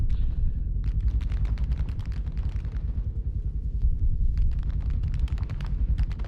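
Continuous heavy rumbling gunfire from a live-fire military exercise with mortars and machine guns, dense overlapping bursts and booms at steady loudness throughout, with no talk.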